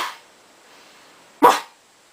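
A person imitates a dog bark with a single short, loud, sharp bark after a brief breathy sound, alone without talk.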